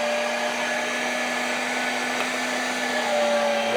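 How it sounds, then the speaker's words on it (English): Electric meat grinder grinding venison, a steady close whine with a constant hum, running alone and straining slightly harder toward the end. "I can definitely hear the grinder working harder."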